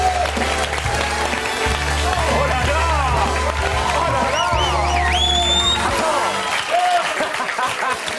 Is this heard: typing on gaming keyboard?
no